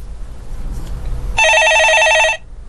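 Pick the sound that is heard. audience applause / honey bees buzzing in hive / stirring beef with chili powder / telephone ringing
telephone ringing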